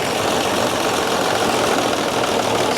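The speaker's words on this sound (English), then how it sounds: "Watch, I'm gonna hit it all the way up, like full throttle, and then go down." A Dodge engine with sluggish throttle response runs in a steady rumbling drone, the revs barely climbing or falling, a close, continuous mechanical hum with a slight knocking texture and no talk.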